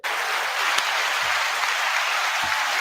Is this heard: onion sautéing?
no